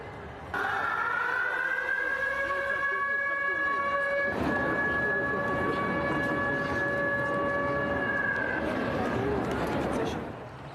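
A wailing air raid siren sounds steadily for about ten seconds in a city during wartime, holding a sustained howling tone over a wash of background noise before it fades out.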